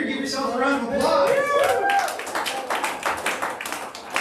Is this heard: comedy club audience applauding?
yes